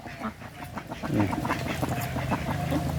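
A group of laying ducks and a drake on a pond bank quack repeatedly in a busy, overlapping chorus close by, with rising and falling loudness.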